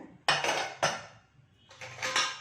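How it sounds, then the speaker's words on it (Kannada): A cooled pressure cooker's metal lid is lifted off after two whistles of fenugreek-leaf pulao, giving three sharp metallic clanks and rattles up close, with no talking. "ಇವಾಗ ಕುಕ್ಕರ್ ತಣ್ಣಗಾಗಿದೆ, ಮುಚ್ಚಳ ತೆಗೆದು ನೋಡೋಣ."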